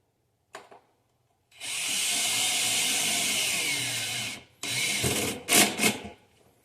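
A power drill drives screws in one long, close, whirring run, then falls silent before several short trigger bursts that speed up and cut off.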